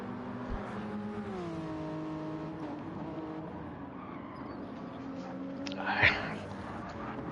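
Engines of BMW and Toyota GT3 race cars in a racing video game drone steadily together, close and moderately loud, as one shifts pitch up and then down, with a brief skid-like burst near the end.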